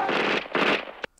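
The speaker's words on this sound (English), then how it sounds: "They're all shooting." Gunfire from the action film Rambo: First Blood, a few sharp bursts in two loud clusters, then one brief crack before it cuts off.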